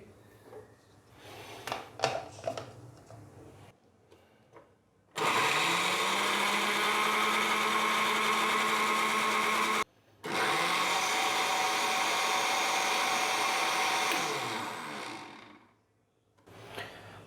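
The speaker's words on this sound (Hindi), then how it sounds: "यहाँ पर मैंने लहसुन को अच्छे से ग्राइंड कर लिया है" Electric grinder whirring garlic, oil and salt into a smooth paste, two loud, steady bursts of high motor whine with a brief pause between them, preceded by quieter clinks and handling noises.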